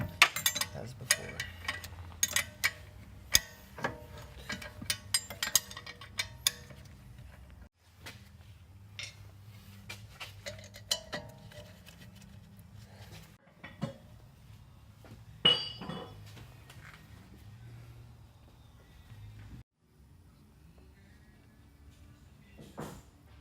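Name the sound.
installing rear brake caliper bolts on a 240sx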